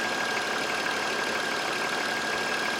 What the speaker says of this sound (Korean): M54 엔진 특유의 엔진음이 나요.